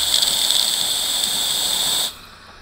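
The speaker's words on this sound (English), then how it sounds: "And you can let some steam out just to clean it." Steady, loud hiss of steam venting from the steam wand of a DeLonghi Magnifica Start coffee machine, continuous and close for about two seconds before cutting off abruptly into quiet.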